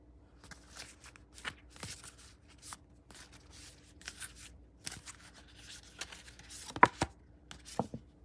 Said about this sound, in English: So I am going to draw the next card